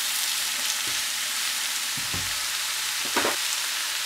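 Zucchini for a Bangladeshi bhaji fries in a pan with a steady, close sizzle, broken by a few scraping spatula stirs.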